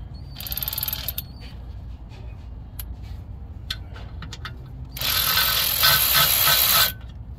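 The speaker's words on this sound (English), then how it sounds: "I'll do it with my cordless ratchet." A cordless ratchet works on the transmission pan bolts of a 1968 Mustang's C4 automatic, with faint clicks and mechanical ticks followed by a loud, steady whirring burst of about two seconds near the end.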